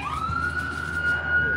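An ambulance siren passing by, a single rising, steady wail heard at moderate distance over low background noise.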